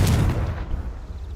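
Confringo blasting spell explosion in a Harry Potter video game, a loud low boom at the start that rolls off into a rumbling decay, heard alone without talk.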